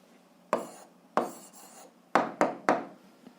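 A pen writes on paper while working an algebra answer: six short scratchy strokes, close and fairly quiet, come in uneven bursts with brief pauses between them.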